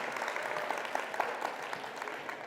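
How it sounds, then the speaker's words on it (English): Round of applause from a conference audience at a government summit session, moderate steady clapping heard at some distance, fairly soft and even throughout. "Can we give a huge World Government Summit round of applause?"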